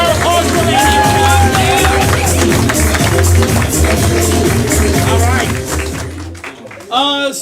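A comedy show audience breaks into loud, dense clapping and cheering that fades out near the end, and a voice rises above it at the close.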